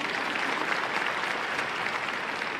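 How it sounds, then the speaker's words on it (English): Dense, even applause from an audience at a local news event, a continuous wash of many hands clapping at steady volume without pauses. "You can clap."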